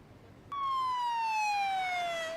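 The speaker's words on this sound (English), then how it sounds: "With police sirens and lights, this vehicle is speeding through the checkpoint toward the border." A police siren wails loud and close as a vehicle speeds through a border checkpoint, one long sweeping tone that begins abruptly and slowly falls in pitch.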